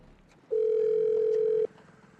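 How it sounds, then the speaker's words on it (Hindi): A steady telephone dial tone sounds alone for about a second while a call is being placed, with quiet background noise before and after. "फोन करके पूछती हूँ कहाँ पहुँचा"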